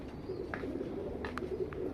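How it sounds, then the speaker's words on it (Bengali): Benaras pigeons in a large breeding loft give faint, low, repeated coos against a quiet room murmur, with a few soft flutters and clicks. "এই দেখেন বেনারস কবুতর"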